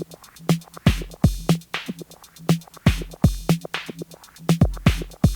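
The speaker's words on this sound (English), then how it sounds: "So now let's say you're working with a new drum loop, something that maybe sounds like this." A steady drum loop with punchy kicks and snappy snares over ticking hi-hats in a repeating groove, close and dry with nothing else playing.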